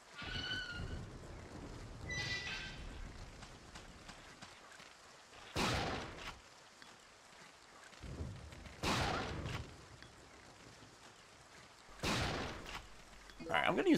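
Heavy gunshots in Resident Evil 3 Nemesis boom out about every three seconds, loud and spaced, with someone talking quietly between and under the blasts.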